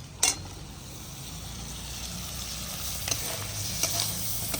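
Potatoes tumbling into a frying pan of shrimp and greens, with a steady close sizzle and occasional stirring clinks, no voices.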